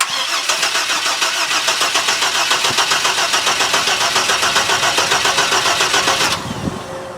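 A 1967 Checker Marathon with a swapped Vortec 4200 engine runs loud and close with a rapid, pulsing exhaust beat, then shuts off abruptly, leaving a faint pop and rattle.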